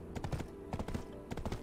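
Horse hooves in Black Desert Online clatter in short rhythmic bursts of several quick clops, with brief pauses between groups. The hoofbeats are near and moderately loud over a faint ambient hum.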